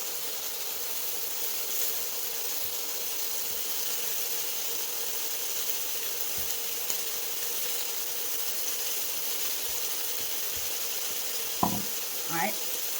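Chicken fajita meat sizzling steadily in a hot pan after being flipped, a continuous close hiss with a few faint knocks and a short scraping sound near the end.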